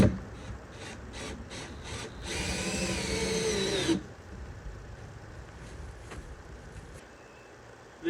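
A power drill drives fasteners into reclaimed lumber while a scrap bin is built, with short bursts early on and one longer, louder run in the middle, close and alone.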